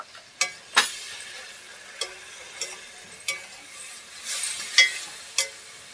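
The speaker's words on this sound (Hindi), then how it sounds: "उसको चला लेते हैं अच्छे से।" A spoon stirs turmeric, coriander powder and crushed chili frying in oil in a pan, giving soft sizzling under several sharp, evenly spaced clinks and scrapes of metal against the pan, close and moderately loud with no talking.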